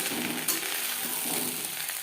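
Onion buds (peyaj koli) frying in a pan over a medium gas flame give a steady, close sizzle with faint stirring, alone and without voices.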